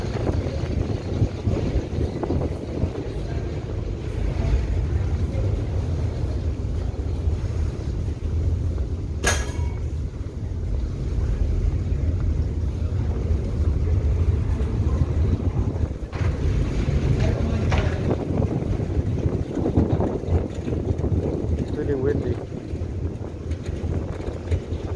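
The ferry Spokane crosses from Edmonds to Kingston, Washington, giving a steady low rumble under constant buffeting wind and water wash. A sharp knock stands out briefly near the middle.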